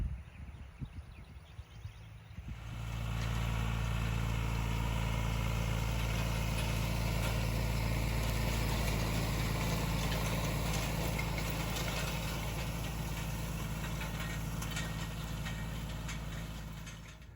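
Tractor engine drone while it pulls an 18-foot-wide, four-wheel, PTO-driven Coon hay tedder in a hayfield; quiet rustling at first, then a loud, steady rumble rises in after a couple of seconds and continues.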